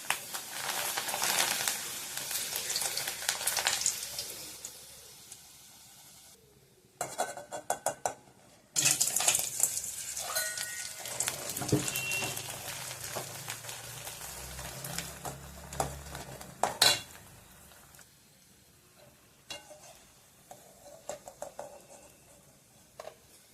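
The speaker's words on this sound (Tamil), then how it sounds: "அப்பளமும் வடையானும் போட்டு பொரிச்சிடுவோம்" Appalam and vada fry in a generous pool of hot oil, giving a soft, faint sizzle broken by clinks and scrapes of a utensil against the pan.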